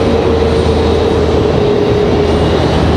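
A Delta Boeing 737-900 departs Raleigh-Durham for Atlanta with a loud, steady jet rumble and a faint sustained tone running through it, no voices present.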